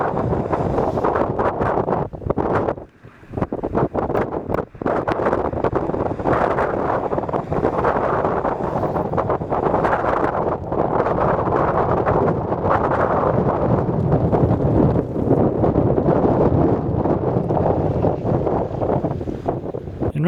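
Strong wind roars steadily around a tornado vortex out on open ground, a loud, continuous buffeting rush over the microphone with a brief dropout early on and no voices.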